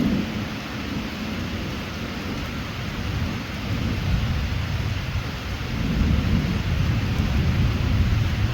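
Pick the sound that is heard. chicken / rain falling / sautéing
rain falling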